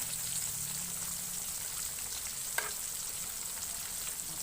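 A pork chop fries crisp in hot oil, a steady dense hiss and crackle at moderate volume with one brief sharp pop midway, and no voices.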